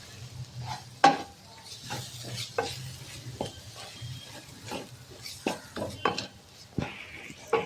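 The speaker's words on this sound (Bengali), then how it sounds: "এখন আমি এই মশলাগুলোকে ভালো করে মিশিয়ে নেব।" A spoon stirs and scrapes chili, cumin and coriander powder in a pan for mutton curry, making a run of close, irregular clacks and scrapes over a soft sizzle, with no talking.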